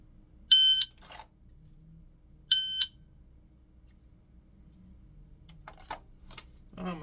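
Two short, sharp electronic beeps from a shot timer in dry-fire draw practice, about two seconds apart, clear against near silence, followed by faint clicks and handling noises.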